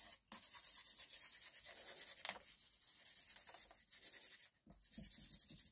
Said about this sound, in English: get a permanent marker and scrub all over the base